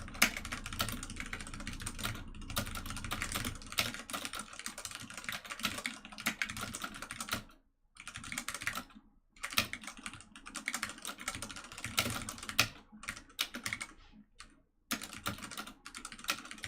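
Rapid, close clicking of a computer keyboard continues throughout, with bursts of keystrokes separated by a few brief pauses and no voices.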